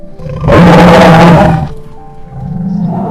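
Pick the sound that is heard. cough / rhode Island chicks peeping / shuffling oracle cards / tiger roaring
tiger roaring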